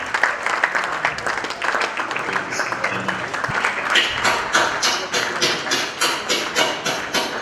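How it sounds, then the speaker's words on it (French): Audience applause at a gathering honouring a couple, Madou and Tatiana, with steady clapping that pulses in waves for several seconds and some mixed thumps. "Des applaudissements bien nommés."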